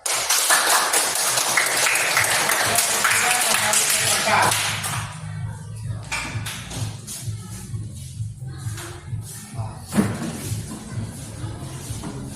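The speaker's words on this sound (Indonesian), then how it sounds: "Kita memberikan aplaus kepada kelompok 3." A classroom of students gives a presentation group a dense burst of clapping that lasts several seconds and then stops. A teacher's voice carries on over quieter room noise afterward.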